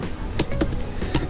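A few computer keyboard keys pressed as a Ctrl+N shortcut in Tally accounting software, making three or four crisp, separate clicks over about a second against a quiet room hum.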